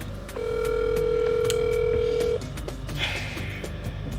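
A steady telephone dial tone hums loudly for about two seconds as a call is placed, then cuts off, followed by faint clicks and background room noise.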